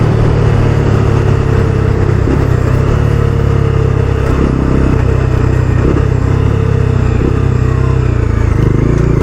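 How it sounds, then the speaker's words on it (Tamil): A 2022 Bajaj Dominar 250 BS6 motorcycle ridden aggressively, its engine droning loud and close throughout with rising and falling revs over heavy wind rumble. "சாரிடா வாசன், வண்டி கொஞ்சம் லைட்டாக அக்ரெசிவாக ஓட்டுறேன்."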